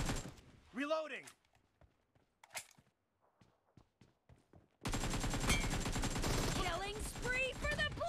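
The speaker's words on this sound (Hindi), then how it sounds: "बहुत ही बढ़िया जंप शूट एंड फायर" Gunfire in the mobile battle-royale game BGMI: sparse shots and thuds at first, then a loud, continuous burst of rapid automatic fire with a voice talking over it.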